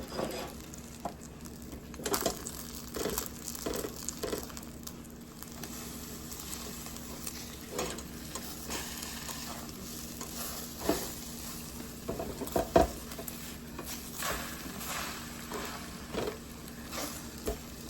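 An egg fries in a pan with a continuous soft sizzle, broken by frequent crackles and pops of spattering fat, heard close and alone with no talking.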